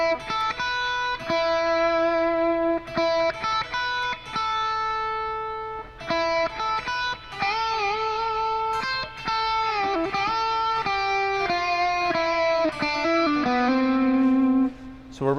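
Distorted electric guitar plays a harmony lick, a quick run of bends and sustained high notes over a repeating rhythm, loud and close, with no voices.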